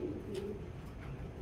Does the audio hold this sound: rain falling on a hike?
no